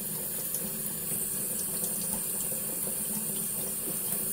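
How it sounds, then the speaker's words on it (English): Tap water runs steadily onto a whetstone during straight razor honing, a continuous close broadband hiss and splash that holds at an even level throughout with no talking. "Now, we're going to turn up that water a little bit"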